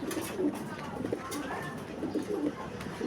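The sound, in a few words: pigeon cooing, Jensen line female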